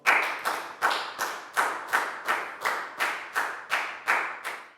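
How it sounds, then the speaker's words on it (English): A steady run of roughly a dozen even claps from a classroom group applauding everyone after a Year 4 maths lesson. Each clap is crisp and close, spaced evenly, with no voices over them. "a big round of applause for everybody for doing a great job"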